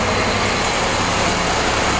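A car engine runs steadily during a SeaFoam fuel-system treatment, a loud continuous drone with a low rumbling undertone and no voices.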